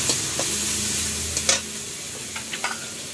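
In a home kitchen, food fries in a pan with a steady sizzle and occasional sharp utensil scrapes and taps from stirring. No one speaks.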